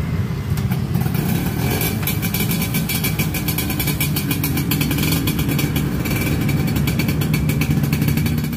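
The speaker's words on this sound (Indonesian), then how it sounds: "125cc 2 tak semi tegak berpendingin udara dengan 6 percepatan" A 125cc two-stroke, air-cooled six-speed motorcycle engine revs loud and close, a steady buzzing drone that holds throughout with rapid firing pulses and no talk.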